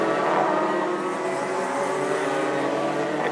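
Senior Max racing karts scream around the track at Zwartkops Raceway, a dense, continuous high-pitched engine whine from several karts at once, loud and sustained with no talk over it.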